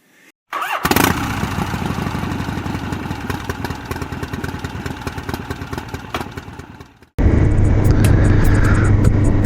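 A motorcycle engine sputters to life and roars loudly up close, cuts out briefly, then bursts back into a steady, throaty rumble.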